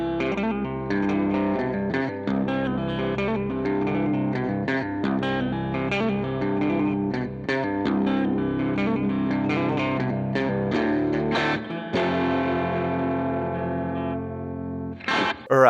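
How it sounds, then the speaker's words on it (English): A twinkly Midwest emo electric guitar riff built on hammer-ons and pull-offs plays continuously through effects, bright and clean with chorus-like shimmer, fast ringing notes, and ends with a brief stop and a final strum. "It starts out with this really like twinkly kind of Midwest emo"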